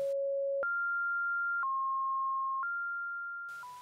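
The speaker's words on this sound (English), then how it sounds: "A constant ringing tone was the only audio." A steady, electronic-sounding ringing tone holds each pitch for about a second, then steps up and down between a few steady notes, alone and clear, with a brief burst of noise at the very end.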